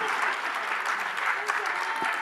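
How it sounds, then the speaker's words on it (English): Sustained audience applause at a women in science symposium, a dense, even wash of many hands clapping at steady volume for the whole stretch. "Can we give these brave souls a round of applause?"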